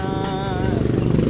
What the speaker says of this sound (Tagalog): ganun lang po kapag yung motor natin pumapalya